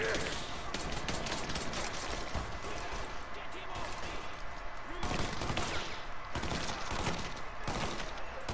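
Gunfire from Mafia 3 crackles in rapid bursts of sharp, loud shots, with denser volleys clustered near the middle and end, over continuous game noise.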